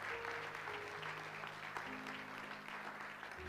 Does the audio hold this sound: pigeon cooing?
no